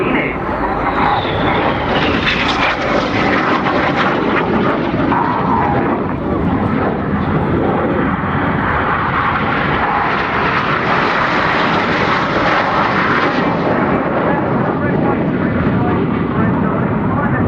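Red Arrows jets of the synchro pair roaring through an air show display, a loud continuous engine roar swelling and shifting over a crowd, with a commentator talking over it.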